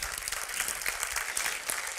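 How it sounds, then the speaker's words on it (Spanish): A church congregation at a sermon breaks into sustained applause, many hands clapping in a dense, lively patter for the full two seconds with no voices over it. "dé un aplauso al Señor."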